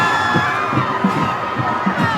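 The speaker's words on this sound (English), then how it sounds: "the West Allegheny faithful with lots and lots to cheer about their team up" West Allegheny fans in a packed Heinz Field crowd cheer and shout at a WPIAL 3A championship high school football game, with a steady roar and bursts of whoops.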